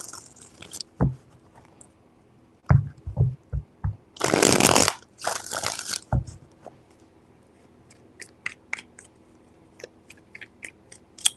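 Tarot cards being shuffled by hand, a few quick riffle bursts and taps up close, with crisp rustling flurries between quieter pauses and no talking.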